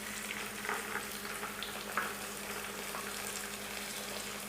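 Onion paste and tomato paste fry in a pan, a faint, even sizzle with a low bubbling undertone and a few soft stirring scrapes.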